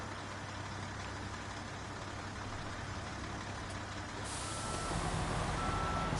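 A semi-trailer truck reverses and parks in Snowrunner, its engine rumbling steadily under insistent reversing beeps, with an air-brake hiss near the end and no one talking.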